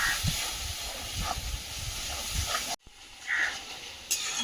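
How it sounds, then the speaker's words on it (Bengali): Masala with coriander powder sizzles and hisses in a frying pan, a steady close sputter with small pops and a brief interruption partway through. "ধনিয়া গুঁড়ো, ভালো করে কষিয়ে নেবো মশলাটা।"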